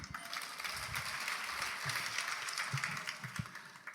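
A church congregation applauds during a sermon, a steady, moderately distant wash of clapping throughout with a few louder bumps and no speech over it.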